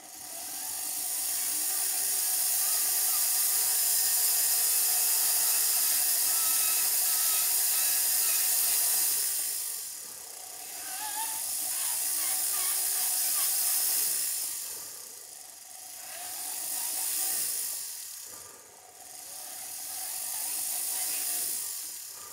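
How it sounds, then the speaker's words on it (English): A high-speed rotary file carving the inside of a signet ring: a loud, sustained whining grind that rises and dips in pitch, pausing briefly several times, close and without talk. "be careful that you don't hit the inside of the ring with the rotary file"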